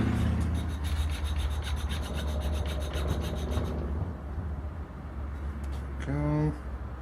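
A metal file rasps repeatedly across brass-coated aluminum scrap, a close, steady scraping that runs for several seconds before giving way to a brief faint tone near the end.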